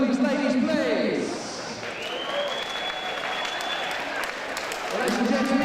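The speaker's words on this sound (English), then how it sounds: "Big round of applause for both of these ladies, please." Crowd applause fills the hall after a women's boxing bout ends in a TKO, steady clapping and cheering lasting several seconds with a voice talking over it.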